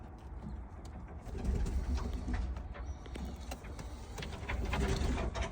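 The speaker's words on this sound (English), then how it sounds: "Two little birds." Pigeons at a nest with newly hatched chicks, soft low cooing repeated under a faint, steady background hum, close and quiet.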